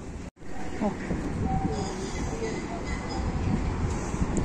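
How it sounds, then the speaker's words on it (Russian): A tram rumbles and rattles past close by after a brief cut, a steady low clatter with people's voices faintly underneath, on a dry day in Germany. "А вот и наш трамвайчик."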